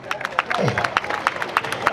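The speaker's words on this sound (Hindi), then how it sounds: "माइक वाले के लिए आप लोग ताली बजाइए" A crowd at an outdoor political rally claps in a quick, steady rhythm of sharp bursts, with a voice heard briefly over the applause.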